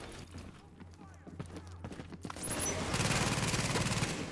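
Rapid sustained chain gun fire in the shooter game Tom Clancy's The Division, starting after scattered quieter shots and voices and then rattling loud and continuous to the end.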